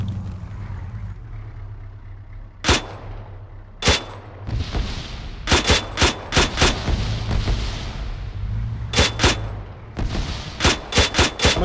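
Sharp, loud gunshots crack out in irregular bursts and scattered single shots over a low engine hum in the video game ARMA 3, some fired in quick clusters.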